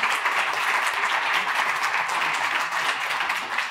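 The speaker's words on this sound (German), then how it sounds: "Es ist einen Applaus deswegen wert, weil es ja sozusagen die Sieger dieses Jahres sind." Steady applause from an audience at an awards event honouring private banking winners, a dense, even wash of clapping held for a few seconds at moderate distance.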